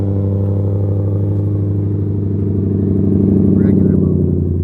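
A 2025 Ford Raptor R engine idling in standard exhaust mode, a low steady rumble that swells slightly toward the end while someone talks over it close by.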